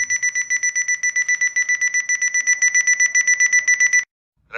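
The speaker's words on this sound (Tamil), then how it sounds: "இந்த கார்பெட் அலாரம் கிளாக்கில் ஒலிக்கிற ஓசை மற்றும் மோட்டிவேஷ்னல் குவாட்ஸ் உங்களுக்காண்டி." A carpet-shaped alarm clock rings with a rapid, evenly pulsed electronic beeping, loud and close, for about four seconds before cutting off, followed by the brief start of a voice.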